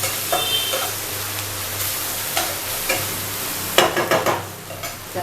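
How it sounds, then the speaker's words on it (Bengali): Ginger paste stirred and fried in a pan for a pointed gourd curry, with a low steady sizzle broken by scattered spatula scrapes and a cluster of sharper scraping strokes near the end, close up with no talk. "এটা একটু নাড়াচাড়া করে একটু ভেজে নেব"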